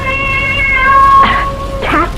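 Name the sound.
cat meowing in an old-time radio drama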